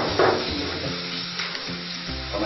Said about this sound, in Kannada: ಈರುಳ್ಳಿ ಫ್ರೈ ಮಾಡ್ಬೇಕು